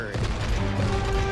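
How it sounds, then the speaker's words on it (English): Continuous rapid-fire shooting in the co-op game It Takes Two, a dense, loud stream of shots lasting the whole short stretch with game sounds behind it. "Just keep shooting."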